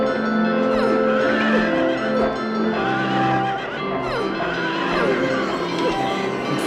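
Horses neigh in Silent Hill 3, several loud overlapping whinnies sweeping up and down one after another, dense and continuous over a droning game backdrop.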